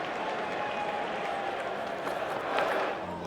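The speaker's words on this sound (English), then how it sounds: "the crowd's into it too" Stadium crowd at an England v West Indies cricket test keeps up a steady roar of applause and cheering, swelling slightly near the end, with commentary voices over it.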